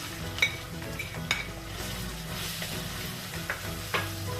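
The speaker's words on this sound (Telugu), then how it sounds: "ఇది ఫ్రై చేసుకోవాలి కొంచెం పచ్చివాసన పోయే వరకు" A ground paste of Malabar spinach and lentils fries in a pan, giving a steady close sizzle with spoon scrapes and clinks against the metal throughout.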